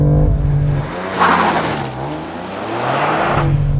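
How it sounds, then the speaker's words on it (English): A 2020 BMW M2 CS with a 3-liter turbo inline six and manual gearbox accelerates hard and loud, engine note rising through revs with a shift in the middle, tires briefly squealing, no talk. "'20 BMW M2 CS with a manual transmission and no launch control."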